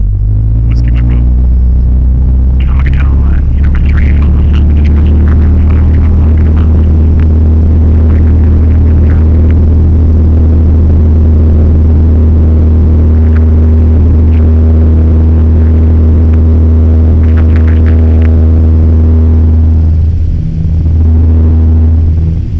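Cessna 172 engine at full power during the takeoff roll on runway 17, a loud, steady droning rumble with strong low harmonics that holds throughout, with faint radio-style voices over it.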